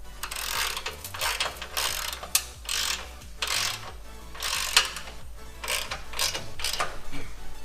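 A ratchet wrench tightens the rear bumper bolts on a Jeep JL: repeated runs of rapid, close mechanical clicking, each lasting about a second, with short pauses between strokes.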